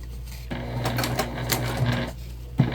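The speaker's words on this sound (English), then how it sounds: "It's not gonna cause any issues to you or your sewing machine." A sewing machine stitches steadily across a nylon coil zipper on a tote bag, a close, even mechanical whir that runs for about two seconds and then stops.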